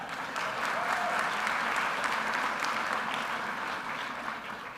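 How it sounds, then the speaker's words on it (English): An audience applauding at a fall college convocation, a sustained wash of many hands clapping that holds steady for several seconds and eases slightly toward the end, heard from within the hall. "You can give a round of applause for that."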